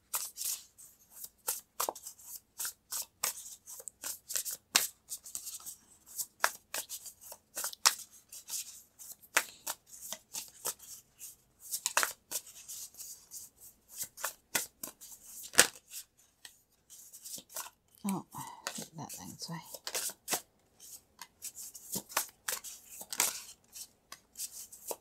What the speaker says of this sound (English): I'm going to pull some cards to go with that.